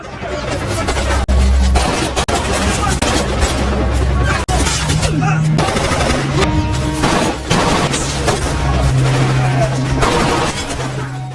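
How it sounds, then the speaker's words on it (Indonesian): Dense bursts of gunfire from a large force of cartel troops, loud and continuous, with booming impacts and crashes layered over one another as a voice narrates above the shooting. "pasukan kartel dalam jumlah jauh lebih besar muncul dari berbagai arah dan langsung menghujani mereka dengan tembakan"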